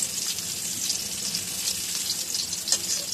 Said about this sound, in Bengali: মাছগুলোকে আমি হালকা করে ভেজে নেব, একদম কড়া করে ভাজবো না।